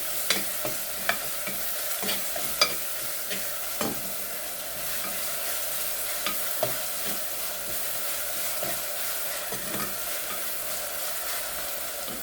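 Chopped onion sautéing in a pan, a continuous close sizzle broken by frequent sharp scraping taps as it is stirred, steady throughout with no talk.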